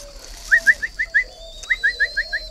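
Pet collared doves bred in pairs give two runs of five or six short, rising cooing calls, close and clear against a quiet room hum, with a pause between the runs.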